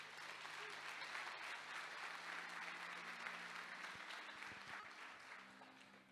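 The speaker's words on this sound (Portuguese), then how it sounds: "Você pode aplaudir a palavra de Deus?" Church congregation applauding during a sermon, a dense, steady wash of clapping that holds for the whole stretch and tapers slightly at the end, with faint low tones beneath.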